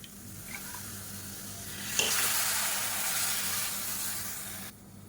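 Water poured into a hot, sizzling curry pan sets off a sudden loud hiss partway through. The hiss bubbles steadily for a few seconds, then cuts off abruptly. No voices.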